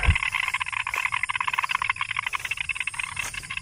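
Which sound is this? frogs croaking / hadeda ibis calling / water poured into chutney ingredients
frogs croaking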